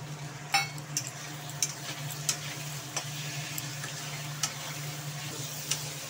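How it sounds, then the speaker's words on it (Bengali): Ground cumin, turmeric, coriander, salt and ginger-garlic paste sauté in a pan with a soft, steady sizzle, punctuated by occasional light spoon clinks and scrapes, close and quiet with no talking. "মশলাগুলো একটু কষিয়ে নিলাম"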